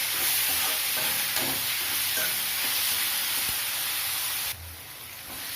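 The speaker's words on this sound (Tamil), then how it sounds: "தக்காளி நல்லா வதக்கிடலாம்." Tomatoes with a little salt sauté in a pan for an eggplant gravy, giving a loud, steady close-up sizzle and hiss that runs throughout with faint stirring touches.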